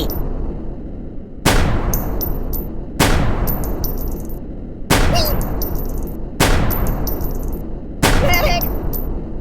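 Repeated gunfire in the Kick The Buddy video game: five loud, evenly spaced booming blasts about every one and a half seconds, each followed by a metallic ringing tail, with voice clips between them.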